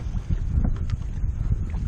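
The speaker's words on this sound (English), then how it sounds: "it's starting to get a little windy" Steady low rumbling wind buffeting the microphone on a kayak at sea, with a dull continuous roar and faint gusts throughout.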